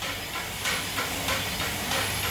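Nitrogen hissing into a tyre during a gauge test at a tyre service shop, a steady broadband rush that swells in several short bursts over a continuous background, close and fairly loud with no talking.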